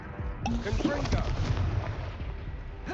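Confringo blasting spell explosions in the Hogwarts Legacy video game, loud booming blasts and rumbling impacts that run steadily through the clip, with a voice speaking over part of the action.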